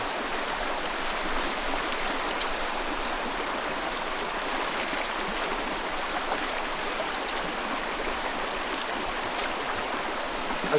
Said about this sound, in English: All these freshwater creeks over here are absolutely pristine